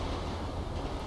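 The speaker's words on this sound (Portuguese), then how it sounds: "Ó, ó o trem aí, cara." A train passing in the GTA V video game, a brief dense rumble of rolling rail noise heard up close.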